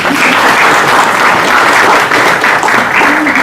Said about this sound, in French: On va applaudir pour le modérateur.